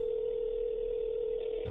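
A steady, unbroken dial tone from an old phone in an unsettling building video game, loud and close, holding a single pitch for nearly two seconds before a faint click at the end.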